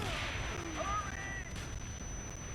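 A muffled, booming explosion in Call of Duty: Black Ops rolls out early, fading into a low rumble with a faint high whine lingering above.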